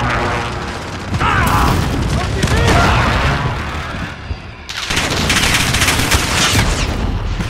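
Call of Duty Search and Destroy match with heavy gunfire and explosive booms from a precision airstrike, loud and continuous with a brief lull midway, under in-game radio callouts.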